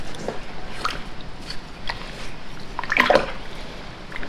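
Fabric is swished and stirred through a pot of soda ash water, with soft irregular sloshes and splashes and a slightly louder churn near the end, close and alone.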